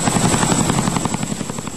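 A helicopter operated by the Singaporean Armed Forces on a freshly cleared landing pad makes continuous loud rotor chop, rapid and even throughout, with no voices.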